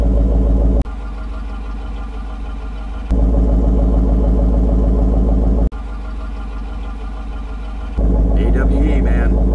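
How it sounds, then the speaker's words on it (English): A 2011-or-later Dodge Durango R/T with an AWE Touring exhaust idles close by, giving a steady, deep, even rumble that holds at a constant level with a couple of brief level shifts. "that's much better idle sound"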